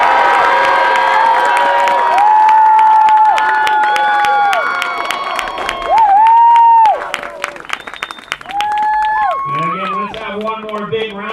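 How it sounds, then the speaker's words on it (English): At a high school varsity football game, a crowd claps and cheers for seniors, cheer squad and team. Loud, sustained applause and shouts run under and around the voices of people talking, with whistle-like tones. "One more big round of applause for all of the seniors for the cheer squad as well as the football team"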